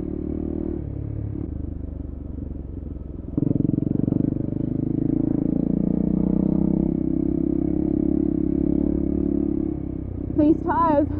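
An enduro motorcycle labours up a small hill in first gear on knobby tyres, its low engine drone steady and close, swelling slightly louder partway through, with a few brief sharp voice-like chirps near the end.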